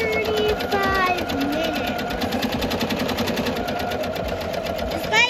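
A Janome MC230E single-needle embroidery machine stitches out a design on a baby bodysuit, its fast, even needle pulses running steadily up close while a voice talks over it.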